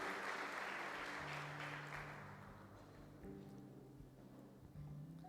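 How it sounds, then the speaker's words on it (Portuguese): Congregation applauding during an Easter evening church service, a burst of clapping that fades quickly into a quieter room with a sustained musical tone underneath. "Você pode aplaudir Jesus?"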